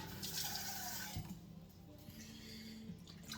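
Water is poured into a pot of coconut curry chicken on the stove, a short splashing rush near the start that fades into quieter kitchen sounds.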